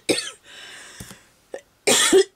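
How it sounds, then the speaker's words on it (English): A person coughs sharply several times at close range, with a first hacking burst, a couple of small throat-clearing catches, then a longer rough cough at the end. "I do not want to have a coughing fit"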